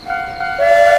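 An animated train sounds its whistle just outside a house: sustained tonal hoots, loud and near, rising to a brighter held tone near the end, with no talk.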